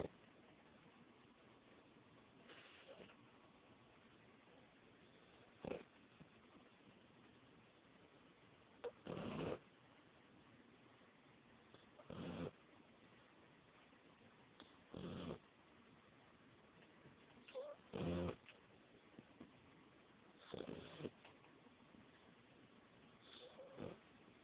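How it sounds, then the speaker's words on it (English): A sleeping pet snores in short, separated bursts, several soft snorts spaced a few seconds apart over a quiet, low background. "Listen to her snore."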